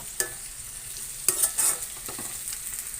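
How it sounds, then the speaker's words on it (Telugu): Ivy gourd pieces fry in hot oil, with a soft continuous sizzle broken by several distinct scraping stirs of a spatula against the pan. "ఇంకా కొంచెం వేగాలి వేగాక మనం కొబ్బరికాయ అనేది వేసుకోవచ్చండి"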